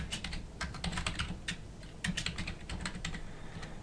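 Rapid typing on a computer keyboard, a quick irregular patter of close, fairly quiet key clicks with brief pauses between bursts.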